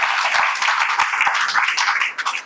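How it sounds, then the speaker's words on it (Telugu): A church congregation claps together in praise, a dense, lively burst of many hands that carries steadily and then thins out at the end. "చప్పట్లు కొట్టి ప్రభువు నామాన్ని కనపరచుకోండి"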